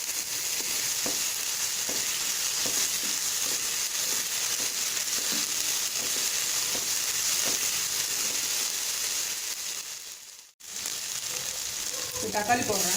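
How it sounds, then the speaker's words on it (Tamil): Onions fry with ginger garlic paste in a pan for a vegetable poha biryani, a steady, close sizzle with light stirring scrapes that dips briefly near the end before picking up again. "இஞ்சி பூண்டு பேஸ்ட் போடுறேன்."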